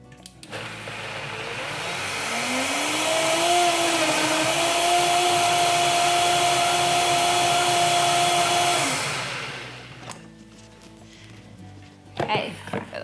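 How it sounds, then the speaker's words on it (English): A blender whirs through a kale smoothie with lemon, a loud, steady motor roar with a high whine that starts abruptly, holds for about nine seconds, then cuts off, followed by a few faint clatters. "And blend."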